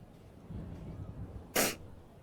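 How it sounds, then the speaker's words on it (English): One person gives a single sharp sneeze, close and sudden, after a moment of soft breathing and quiet indoor background. "I have a sneeze incoming."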